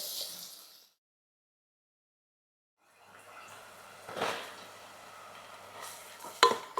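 Chopped tomatoes going into a pan with softened onion for a green pea curry, then stirred: a brief sizzle, a gap of near silence, then a steady soft frying hiss with scraping stir sounds, close and fairly quiet.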